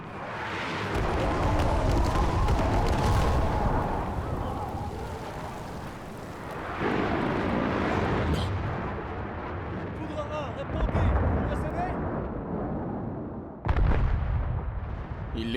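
An artillery strike in the Battlefield 6 video game, a long loud rumbling barrage of booming impacts and blasts with several sharp fresh bursts on top, heavy and continuous throughout.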